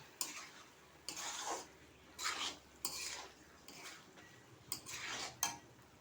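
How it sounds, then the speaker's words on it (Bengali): Taro (man kochu) curry with pia fish being stirred after cumin powder is added: a spoon scrapes the pot in about six separate scraping bursts over a soft background, with no talking. "জিরের গুঁড়ো দিয়ে ভালো করে আবার নাড়িয়ে নেব"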